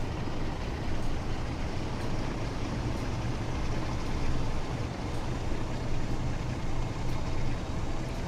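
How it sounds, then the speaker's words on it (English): Steady, loud drone of a Class 47 diesel locomotive in a railway simulator game, its roots blower whining over rumbling engine and rail noise, continuous with no talk. "the whining sound you hear doesn't sound like a turbo, it sounds like a roots blower"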